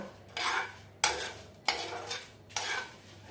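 Panch phoron whole spices with bay leaf frying in hot oil while mango pickle is being made, heard as three or four bursts of stirring scrapes and crackling sizzle at a close distance, with no voices.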